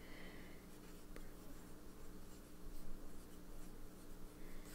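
Fountain pen with Colorverse Project 001 Shiny Black ink scratching steadily across paper, a soft continuous writing scrape close to the mic with faint low background hum.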